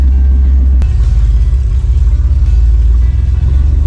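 A Toyota Land Cruiser with a rebuilt, tuned 2F engine on its first drive, the engine rumbling loud and steady close by with a low pulsing drone throughout.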